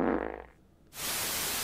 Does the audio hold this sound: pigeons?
no